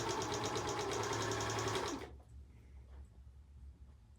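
An overlocker sewing machine runs fast for about two seconds with a dense, buzzing mechanical whir, then stops abruptly, leaving quiet room tone.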